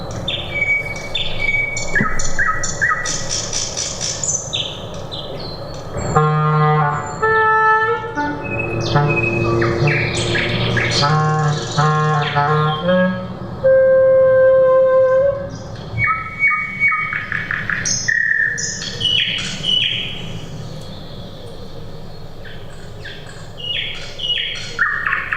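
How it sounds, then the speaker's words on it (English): A nightingale sings in varied phrases of whistles, trills and rapid chirps, loud and close, layered with sustained musical tones accompanying the bird throughout. "this avian musician, this singing nightingale"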